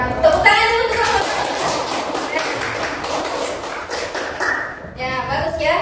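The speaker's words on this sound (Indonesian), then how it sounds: "Tepuk tangan dulu untuk kelompok." A class claps for a presenting group, a scattered round of hand claps with voices talking over and around it in a lively room.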